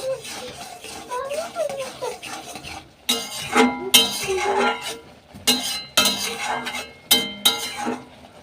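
Stirring food in a pot, with a utensil scraping and clinking against the metal in bursts of several strokes, close and fairly loud, after a quieter stretch of faint background sound.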